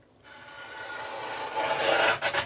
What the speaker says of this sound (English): So bringing in the trimmer